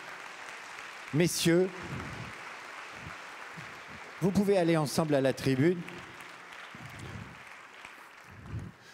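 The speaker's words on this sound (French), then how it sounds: "Vous pouvez les applaudir" Applause from a conference audience runs as a soft, continuous patter beneath someone speaking into an amplified microphone, his voice coming in two clear bursts over the steady clapping.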